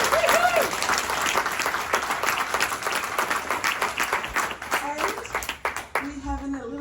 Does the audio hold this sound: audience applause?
yes